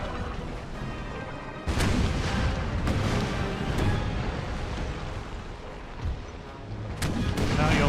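Naval cannon fire in the video game Empire Total War, with heavy booming broadsides rolling over one another in a dense, loud, continuous barrage of blasts and crashes.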